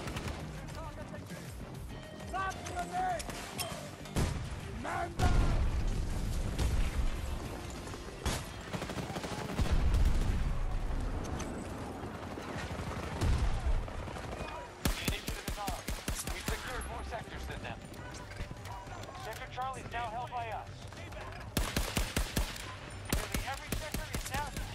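Rapid bursts of automatic gunfire and scattered single shots in a Battlefield 2042 multiplayer match, loud and near, with occasional crashes and a player talking over the shooting.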